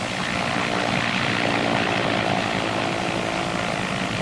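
A BT-13 trainer aircraft's radial engine roars steadily during a WWII-era training takeoff, a dense, loud, continuous propeller drone without letup or voices.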